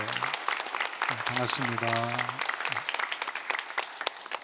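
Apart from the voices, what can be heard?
congregation applauding to welcome members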